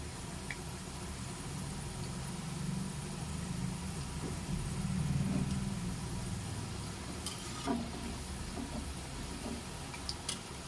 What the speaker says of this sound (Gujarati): આ રીતના આપણે બધા મુઠિયા શેકી લઈશું તેલમાં